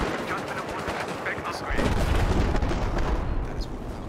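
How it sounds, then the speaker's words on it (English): Battlefield 4 gameplay gunfire crackles in rapid bursts of automatic fire at a distance, then heavier rumbling booms join in and thicken the din for the rest of the stretch. "I don't like the fact that there's a whole lot of gunfire over there"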